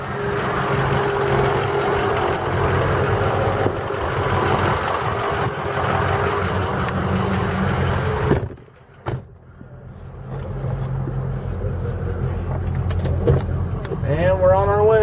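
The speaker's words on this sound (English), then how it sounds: "So there's the F-350. It's kind of loud." A loud Ford F-350 pickup truck drives with a continuous, rumbling engine and road roar, which dips briefly to near quiet midway before the steady drone returns.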